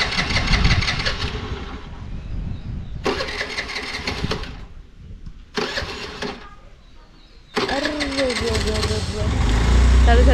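A vehicle engine cranks several times in short bursts, then catches and starts, and the running engine idles loudly and close by under some speech.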